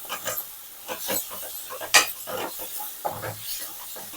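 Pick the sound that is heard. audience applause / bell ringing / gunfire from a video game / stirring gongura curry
stirring gongura curry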